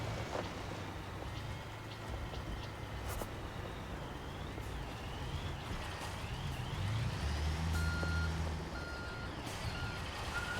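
Reversing beeps from a construction truck backing into a parking spot in the Construction Simulator 2022 video game. A steady engine rumble runs underneath, and a clear repeating tonal beep joins in over the last few seconds.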